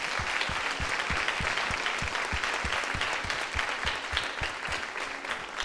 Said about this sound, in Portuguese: Vamos aplaudir ao Senhor por esse tema.